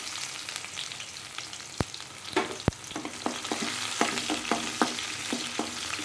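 Chopped onions frying in oil with cumin seeds in a pan, a soft continuous sizzle punctuated by several sharp clicks and scrapes of a stirring spoon; no talking.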